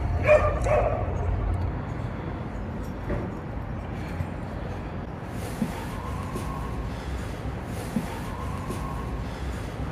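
A dog barks and yips in short bursts near the start at Newark Castle, followed by more distant, fainter yelps over a constant low rumble of background noise.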